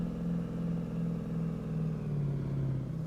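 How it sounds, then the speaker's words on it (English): Impala muscle car in the Assetto Corsa racing game pulling away from first gear, a loud, steady low engine drone that rises slowly with little change in pitch, heard alone. "When you start it from the first gear, it takes a while to catch some speed."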